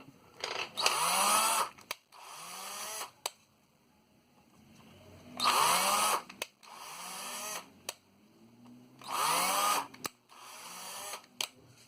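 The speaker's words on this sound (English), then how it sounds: "So yeah, I'm re-drilling these ones." A cordless drill whirs in three separate bursts of a second or two each, with quieter handling clicks and rattles in between.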